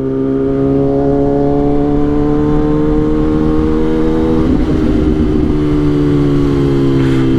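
A Kawasaki ZX-10R sport motorcycle engine drones loudly and steadily while riding, its pitch dipping briefly during a shift before settling back into a smooth hum.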